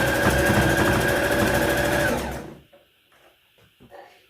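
An electric sewing machine stitching a churidar slit, a loud close rapid mechanical whirr for about two seconds that then winds down and stops, leaving quiet faint handling noises.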